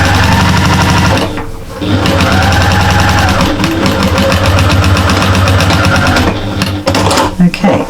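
A domestic sewing machine stitches around a flying geese quilted cushion, running in a loud, steady, close mechanical whir with short pauses and restarts.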